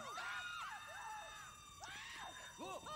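High-pitched screaming from a video game character, with sweeping, wavering cries repeating over about three seconds against a steady background of game sound and noise.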